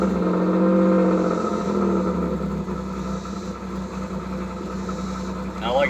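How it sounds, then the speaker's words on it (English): A 1991 Pontiac Firebird's 3.1 V6 engine idling roughly, a steady uneven low hum close by, with someone talking over it. "it's still kind of got a little bit of a rough idle to it"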